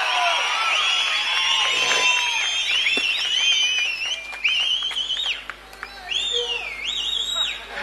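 Crowd of supporters at a Seemaan political rally in Tamil Nadu, with shrill whistles and shouted cheers rising and falling over a murmuring throng, fairly close and lively.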